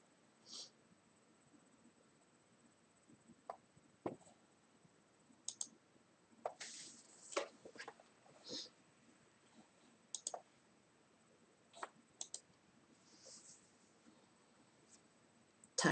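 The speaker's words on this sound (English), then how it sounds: "Type it in." Light, scattered typing on a computer keyboard, with short clusters of quiet key clicks separated by pauses in an otherwise hushed room.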